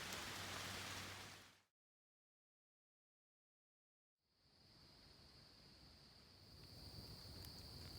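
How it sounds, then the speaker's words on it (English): Steady rain patters on a tent on the Appalachian Trail in Maryland, a dense broadband hiss with a brief dropout of silence partway through, then resuming with a faint high tone. "Got the tent up just in time. It just started raining."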